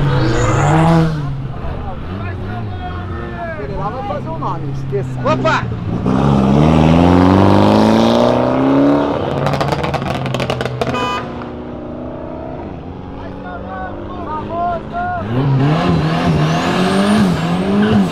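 A car at a street car-exit event accelerating hard and sliding sideways: loud, rising engine revs with gear changes and squealing tires, passing close, while voices talk over it.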